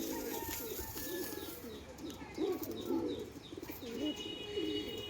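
Active Giribaz pigeons coo in repeated low, rolling phrases, fairly close and steady across the stretch, with a few faint chirps and a brief flutter of wings.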